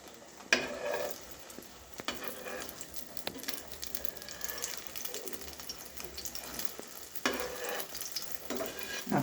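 Egg with onion and chilli frying in a pan, a steady soft sizzle with occasional scrapes of stirring and a few sharper clicks, moderately close and fairly quiet.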